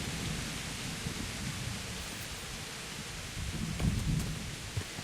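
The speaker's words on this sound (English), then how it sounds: "Not exactly a great idea during the storm" A thunderstorm in the video game Kingdom Come: Deliverance: steady heavy rain hiss with low rumbling thunder swelling near the end, no voices.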